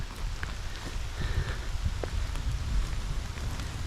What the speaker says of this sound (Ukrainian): хоч лиє, лиє дощ